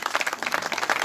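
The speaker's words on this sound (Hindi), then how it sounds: "एक बार फिर सांसद महोदय को तालियों के साथ स्वागत और अभिनंदन" A crowd claps in welcome for a member of parliament at an ex-servicemen's organisation gathering, steady dense applause filling the full moment at close range.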